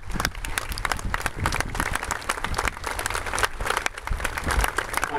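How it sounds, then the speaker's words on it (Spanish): A crowd applauds at a police pre-cadet academy recognition ceremony, dense continuous clapping from many hands that stays loud and even throughout. "Venga, la palma, el aplauso,"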